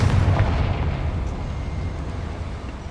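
A Confringo spell blast in Hogwarts Legacy booms loud and close, opening with a heavy rumbling burst that rolls off into a decaying low roar over about three seconds.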